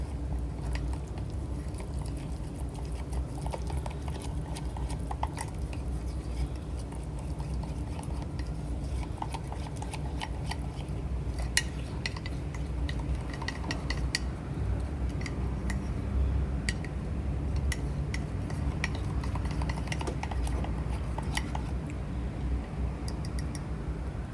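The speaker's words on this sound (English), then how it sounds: "we'll mix those together with our fork until it becomes a batter" A fork whisks ingredients and oil into a pizza batter, giving a long run of quick, light clicks and scrapes against the bowl over a low, constant background with no speech.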